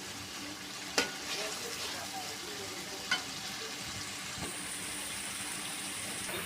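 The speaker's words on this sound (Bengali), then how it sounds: "দিয়ে দিলাম চিংড়ি মাছ। চিংড়ি মাছগুলো ভালো করে কষাই নিব আমি।" Shrimp sautéing in spiced oil in a pan, a continuous soft sizzle and crackle with a couple of sharp utensil knocks against the pan, heard close up without talk.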